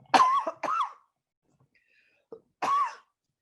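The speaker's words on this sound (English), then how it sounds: "I'm going to cough" Three sharp coughs close to the mic, two in quick succession, then a pause with a small click before a final cough.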